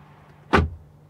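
One more closing of the rear door of a 2024 Mercedes GLC Coupe AMG, heard from the back seat as a single heavy, muffled thump followed by a quiet cabin.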